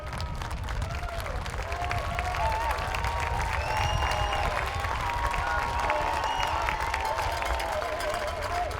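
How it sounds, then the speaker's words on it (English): A college football crowd at RPI versus Western New England University cheers and applauds after the game as the teams walk to midfield, a broad steady roar with distant clapping and overlapping voices. "Crowd cheering on the Engineers as they go to the 50-yard line, walk across the field"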